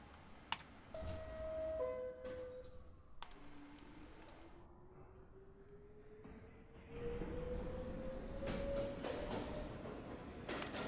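A Roblox subway V train runs in a video game, a steady rising motor whine building over several seconds with clicks and faint rumble, no talking.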